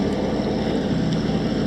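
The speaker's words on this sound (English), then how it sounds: "there's no wind. We're under engine." A sailboat motoring under engine power in calm, windless conditions at sea, with a steady, loud, continuous engine drone and no voices.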